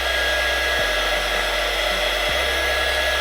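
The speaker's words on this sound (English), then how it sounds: "when you turn it on, heats up the air almost instantaneously, even better than a hairdryer" A heat gun blowing hot air while prepping a surface for vinyl wrap, a loud, steady close-up roar with a constant motor hum and a couple of brief dips where the airflow shifts.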